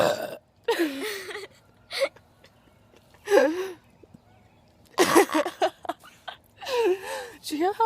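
Several loud human burps come in bursts separated by short pauses, mixed with breathy laughing sounds and voices nearby.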